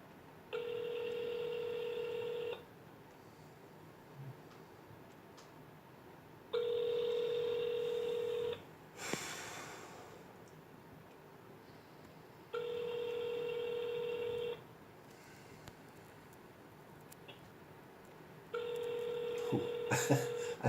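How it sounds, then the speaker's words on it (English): Telephone ringback tones on a call to an airline's 707 number, four long evenly spaced rings separated by pauses, with a short click or dialing burst midway, heard close over a phone line with no talk. "So we're calling them the 707 number."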